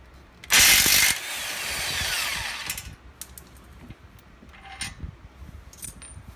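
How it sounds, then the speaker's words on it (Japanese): An old electric power tool, likely an impact wrench, loosens suspension nuts on a 2015 Subaru WRX STI during a coilover install: one loud burst of about half a second, then quieter whirring for a couple of seconds, followed by faint clanks. "この電動の古いやつを使わせてもらいますね。"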